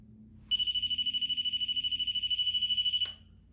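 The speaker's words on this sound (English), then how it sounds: "if you touch this or get close enough to it, it'll make a sound like this." A REM pod electromagnetic field detector sounds its alert: a steady, piercing electronic beeping tone with rapid pulses, held for about two and a half seconds before cutting off abruptly in a quiet room.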